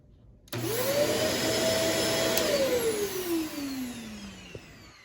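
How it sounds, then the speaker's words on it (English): A Shark Navigator Swivel vacuum cleaner used in a basement switches on with a loud, steady drone. Its motor whine rises, holds, then slowly sinks in pitch, with no talking over it. "I had this vacuum for like 6 years"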